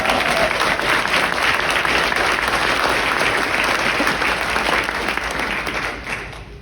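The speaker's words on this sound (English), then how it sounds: "She deserves her own round of applause." An audience at a chorus show with a quartet and guitars claps in loud, steady applause that tapers off near the end.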